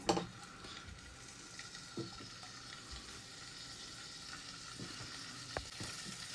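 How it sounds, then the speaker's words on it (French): Chicken pieces frying in a pan for an express chicken couscous: a steady, soft broadband sizzle runs throughout, with a louder burst at the start as the meat goes in and a few faint knocks and stirs. "Et ça va être du poulet que je vais mettre tout de suite dans la poêle."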